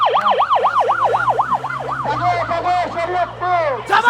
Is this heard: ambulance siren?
yes